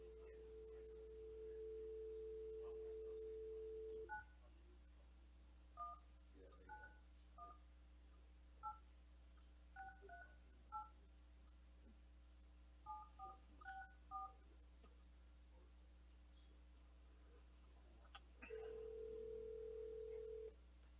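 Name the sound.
telephone being dialed, touch-tone dialing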